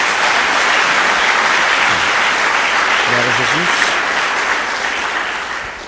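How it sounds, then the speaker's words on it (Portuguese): Church congregation applauding loudly and steadily throughout, with a voice speaking over the clapping as it starts to fade near the end. "Dê uma salva de palmas ao Senhor."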